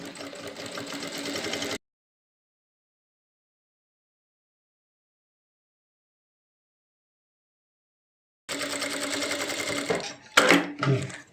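Sewing machine stitching fabric, a short close burst of rapid whirring, then a long silence, then another run followed by a few clacks and handling sounds.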